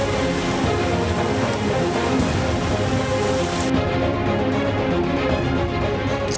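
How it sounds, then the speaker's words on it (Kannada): Heavy rain during a thunderstorm in Chikkamagaluru, Karnataka: a dense, steady roar of downpour fills the whole stretch, loud and continuous, with no voices over it. "ಚಿಕ್ಕಮಗಳೂರಿನಲ್ಲಿ ಗುಡುಗು ಸಹಿತ ಭಾರೀ ಮಳೆಯಾಗಿದ್ದು"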